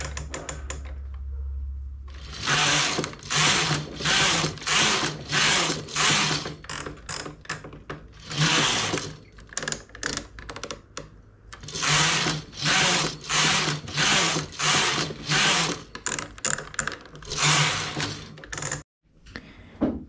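A knitting machine carriage is pushed back and forth across the needle bed for several rows, a loud, close mechanical clatter and whir in rhythmic sweeps separated by brief pauses.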